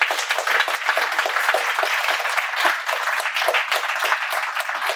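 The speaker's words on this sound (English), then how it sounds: "why don't we give Fely a big round of applause" Steady, dense applause from an audience at a talk, many hands clapping close together for the full few seconds without pause or voices.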